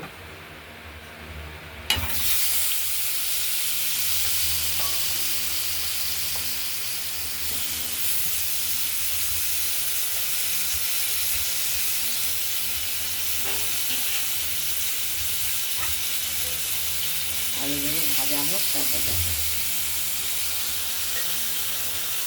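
Potatoes fry in hot oil with a loud, steady hiss and sizzle after an initial splash as they go in, with a few scraping stirs partway through and no talking.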